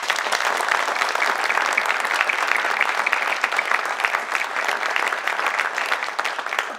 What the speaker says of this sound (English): So please join me in giving everyone a round of applause.